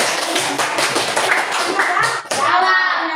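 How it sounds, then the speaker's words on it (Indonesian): A class of children clapping together in a lesson on butterfly life stages, loud, close, fast hand claps with a brief gap near the end, with children's voices mixed in. "kita berikan tepuk tangan"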